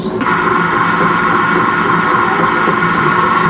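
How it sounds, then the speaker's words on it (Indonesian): An electric mixer kneads bread dough in a home kitchen, running as a loud, steady motor whir that holds evenly throughout with no talk over it. "Kita masukkan, kita nyalakan mixernya."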